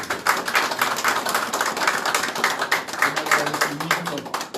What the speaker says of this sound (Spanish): dándole un aplauso formidable